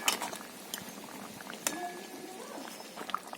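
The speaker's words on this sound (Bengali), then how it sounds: "মশলাটা ফুটতে শুরু করেছে" A spice mixture boiling with bottle gourd leaves and silver carp fish in a pot, a faint, close bubbling and soft popping with a few light clinks.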